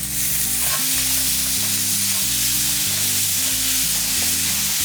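Tomato sautéing in a pan gives off a loud, continuous sizzle with stirring scrapes throughout and no talking.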